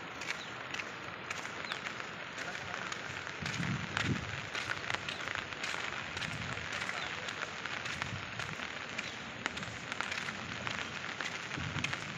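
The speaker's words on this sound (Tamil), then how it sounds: "தண்ணி தெறிக்கிட்டு போயிட்டு இருக்குது." Steady broadband rush of rainwater after heavy rain, splashing and spattering continuously for the whole stretch, fairly close, with no voices.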